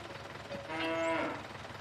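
A single cow gives a drawn-out moo during a cattle drive on the Staffelsee, fairly close and clear against quiet outdoor background.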